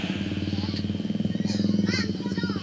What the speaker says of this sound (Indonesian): Motor apa itu? Kencang amat.